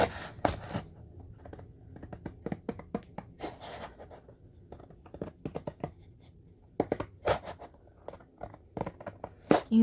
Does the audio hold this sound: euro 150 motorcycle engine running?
no